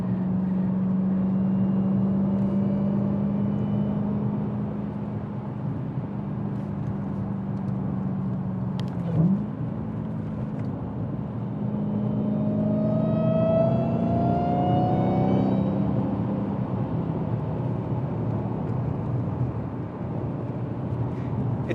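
A Dodge Challenger Hellcat's engine drones steadily from inside the cabin while driving, with a low continuous hum that swells briefly into a higher revving whine midway through, then settles back to a smooth cruise.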